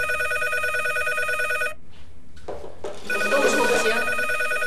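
A landline telephone bell rings steadily and loudly in a home, then stops; after a short quiet gap, people speak and the room fills with voices.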